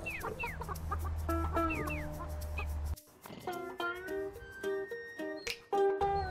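Chickens cluck and squawk up close in short repeated calls in the video game Burly Men At Sea, over a low steady hum that cuts out midway.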